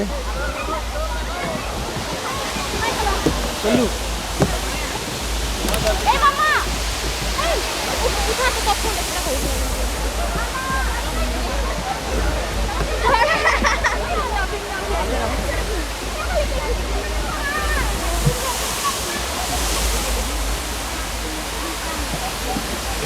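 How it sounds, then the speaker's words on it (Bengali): Baraghagra waterfall in Odisha pours into a pond-like pool below, a steady broadband roar of falling water close by that continues the whole time while a voice talks over it. "এই জায়গাটা বলা হয় বড় খাগড়া ওয়াটারফলস"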